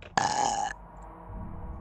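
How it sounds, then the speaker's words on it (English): A single short, loud burp rumbles out abruptly and cuts off, followed by quiet background noise. "Six burps."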